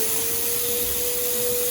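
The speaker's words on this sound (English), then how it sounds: "I just nip outside and turn on the vac." A pond vacuum runs as a steady, loud, unbroken whine with a constant motor hum, close by and with no voices.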